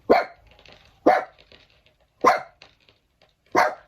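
A dog barks four times at roughly one-second intervals, each bark sharp and fairly close, with quiet gaps between them near a camper van in Beijing's Haituo area.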